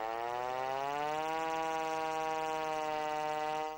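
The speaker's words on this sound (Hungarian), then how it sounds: "A sziréna szerencsére nem valódi veszélyre hívta fel a figyelmet." A siren wails at a youth disaster-response competition by a river dike, one long sustained tone that rises slightly at the start, then holds steady and loud before cutting off, with no talk.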